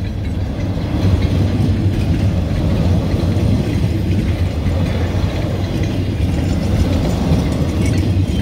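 A southbound freight train loaded with pulpwood rolls past a road crossing, its steady heavy rumble and rail clatter filling the whole stretch at close range with no break.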